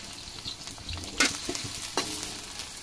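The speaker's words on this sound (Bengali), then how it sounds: "এর মধ্যে আমি কাঁচা পেঁয়াজ দিয়ে দেব 1 কাপ মতো। কাঁচামরিচ দিয়ে দিব।" Raw onions and green chilies fry in a pan for an Eid chicken curry. They give a steady close sizzle with a few sharp crackles and stirring scrapes, and there is no talk.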